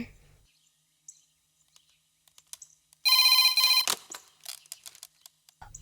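A telephone rings in a short, loud electronic burst during a Telugu movie scene, with quiet sound before it and brief scattered noises after.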